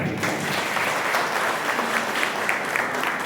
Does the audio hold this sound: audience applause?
yes